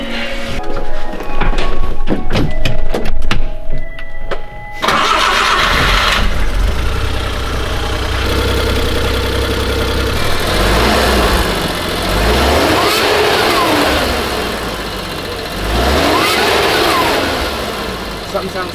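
A tiny turbocharged vehicle engine with a blown turbo cranks and fires, then idles roughly and revs in repeated rising and falling sweeps, loud and close, with a voice speaking over it.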